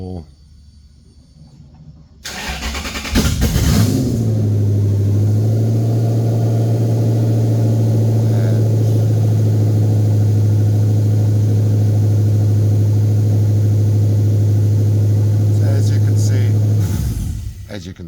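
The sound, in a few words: Toyota 2UZ-FE V8 engine cranked and running on standalone system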